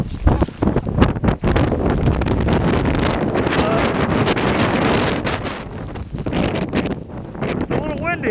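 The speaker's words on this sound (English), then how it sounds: "It's a little windy, huh?" Strong blizzard wind buffets the microphone during a winter storm on a university campus, loud gusty rumbling and roaring that surges and eases, with people talking briefly beneath it.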